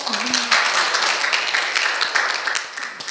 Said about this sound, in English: So maybe we give her a big applause.